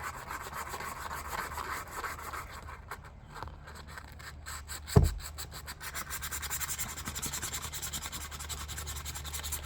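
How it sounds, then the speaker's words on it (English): Close, continuous abrasive rubbing of sandpaper against an axe, steady and moderately loud, with one sharp knock midway and then the grinding strokes resuming. "Done with that part of the sanding."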